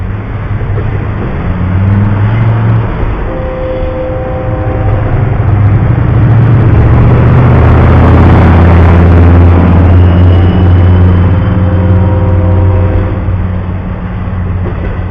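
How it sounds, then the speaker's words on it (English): A car drives past at speed on a Shreveport street, its engine and tire roar swelling steadily to a loud peak midway and then fading away, with steady traffic rumble throughout. "Here's the same car coming by a few minutes later"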